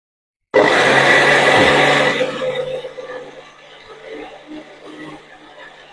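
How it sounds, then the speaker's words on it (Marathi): A mixer grinder grinding fermented batter starts abruptly with a loud whirring grind, then its pitch and loudness drop as it keeps running; voices murmur faintly underneath. "मिक्सरवर आपण बारीक वाटून घेऊया फार घट्ट नाही फार पातळ नाही"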